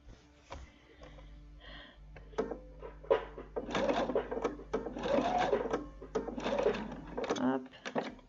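A domestic sewing machine stitching a dress, its motor whirring in short bursts and longer runs, with quiet clicks between stops and a person speaking softly nearby.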